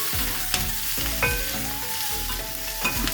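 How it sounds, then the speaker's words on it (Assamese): Boiled pork frying in a pan, a dense close sizzle with regular spatula scrapes and clinks as the meat is tossed, no voices. "এতিয়া মই ইয়াত প্ৰথমতে দিম পৰ্কখিনি দি দিওঁ"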